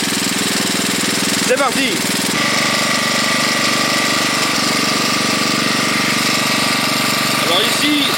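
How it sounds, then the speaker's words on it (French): A farm tractor's engine runs steadily and loud throughout while the tractor is driven, with a brief spoken exclamation near the start. "on y va en tracteur parce qu'il faut que je tourne"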